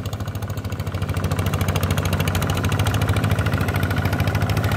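A newly bought ZT155 engine, used for puddling a rice paddy, runs with a steady, close, rhythmic chugging thump that rises slightly in intensity as it settles in.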